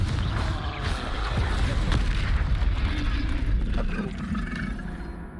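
A dense, rumbling fire blast from the Confringo spell in the Hogwarts Legacy video game roars loud and continuous, with booming, crackling bursts sustained throughout.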